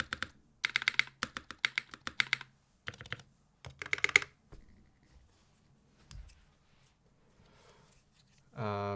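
Custom-built mechanical keyboard with a warped PBT spacebar typed on up close, quick bursts of crisp clacky keystrokes separated by pauses, then near silence with a speaking voice toward the end.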